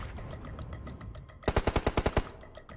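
A rapid run of about eight sharp shots rings out in a PUBG Mobile fight, evenly spaced and loud, after a quieter stretch of scattered distant pops and game ambience, with one more crack at the very end.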